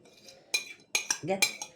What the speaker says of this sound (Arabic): نحط كده المانجا بقى ونقلب كده تقليبه حلوه